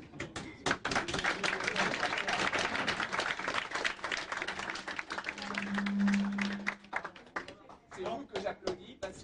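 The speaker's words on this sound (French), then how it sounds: "C'est vous que j'applaudis" Scattered clapping from an audience at a talk on artificial antigravitation, brisk and uneven, mixed with voices and a few thuds, fading near the end before a final patter of claps.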